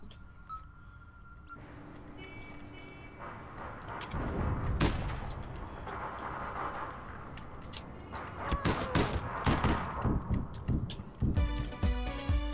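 Gunfire rings out in an online shooter video game, sharp shots and rapid bursts layered over background game noise, growing denser and more clustered toward the end.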